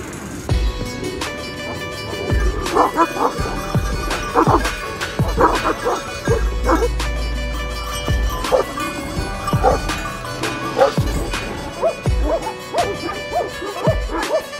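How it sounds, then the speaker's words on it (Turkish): Dogs of a tough, hard-tempered character bark repeatedly in loud, sharp bursts with short whimpering yips between, continuing steadily throughout with no talk. "bu köpekler yani sert karakterli köpekler"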